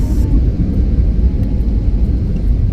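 A loud, constant low engine rumble fills the cabin of an airliner on approach to Agra airport, heard from inside with no change in pitch.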